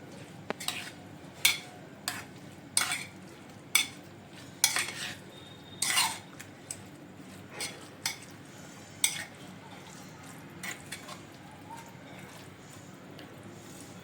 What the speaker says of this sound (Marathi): आपण आता त्याच्यामध्ये टाकूया किसलेली काकडी आणि मिक्स करून घेऊया